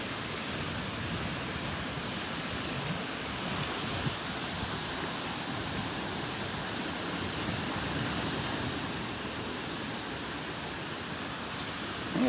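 Surf rolls onto a quiet beach in North Naples, Florida on a calm morning, a broad continuous wash of waves with light wind noise, steady and unbroken for the whole stretch.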